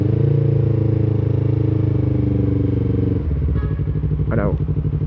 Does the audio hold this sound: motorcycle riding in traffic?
yes